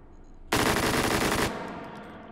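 A fully automatic gun in the VR shooter Hot Dogs, Horseshoes & Hand Grenades fires one loud, close, rapid burst of about a second. It then cuts off into a ringing tail.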